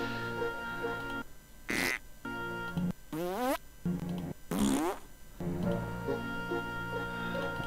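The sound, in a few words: farting button noises in Pyst video game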